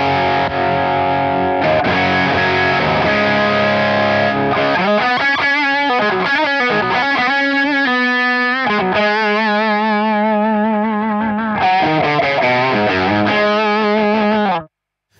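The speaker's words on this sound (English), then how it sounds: "It's a smoother gain. It's nice, a smoother distortion sound." An electric guitar runs through a Walrus Audio Iron Horse V2 distortion pedal with more compression, playing loud, smooth, sustained distorted chords and riffs, ringing notes that shift in pitch and cut off abruptly at the end.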